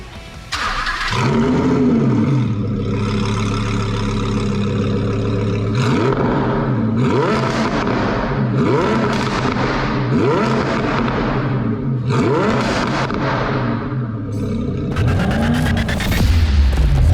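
A Lamborghini Huracan fitted with a RYFT exhaust revs hard in repeated bursts, loud and close, with deep rumbling pulls that rise and fall in pitch. Crackles pop between the revs.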